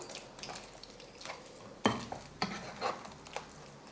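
Rice flour batter being stirred in a pan for a sweet, with a run of soft scraping strokes and a few sharper clinks of the spoon against the pan, fairly quiet and close.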